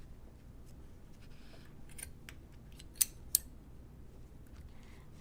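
Scissors snip twice in quick succession during craft finishing work on a snow globe ornament, faint and close, in an otherwise quiet room.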